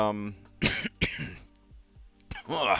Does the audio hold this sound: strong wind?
no